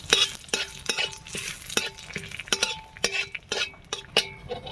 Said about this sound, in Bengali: ওটা একটু ভেজে নেব